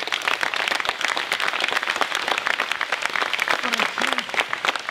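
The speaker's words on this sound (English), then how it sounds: "you give that statement a round of applause right now" An audience at a motivational talk on dignity breaks into a round of applause, many hands clapping in a crisp, busy patter that stays lively throughout, with a brief voice faintly audible near the end.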